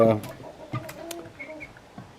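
Hens in a backyard coop cluck in short, scattered bursts near and at moderate volume, with soft rustling between calls.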